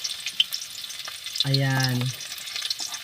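Chopped onion hisses steadily in hot cooking oil, a dense close sizzle with a brief voiced tone in the middle and one short word spoken.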